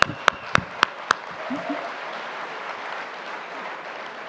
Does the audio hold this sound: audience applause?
yes